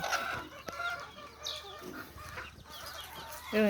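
A caged fighting rooster, a white bird, clucks in short, close bursts amid other fowl sounds and faint farmyard background, with a sharp click and a louder cluck at the end.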